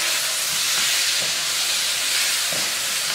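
Steady, loud sizzling hiss of spicy chicken fingers frying in hot oil, continuous throughout with a few soft pops.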